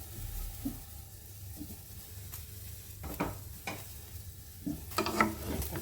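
Tomatoes hit hot tempered oil for a chutney, giving soft bursts of sizzling and a few stirring scrapes against the pan over a quiet background.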